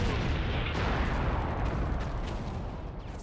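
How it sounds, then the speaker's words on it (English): Laser-guided bombs dropped on houses explode in a continuous, heavy roar of blasts and rumbling debris that fills the whole stretch at steady loudness, with no voices. "Then the bombs are dropped."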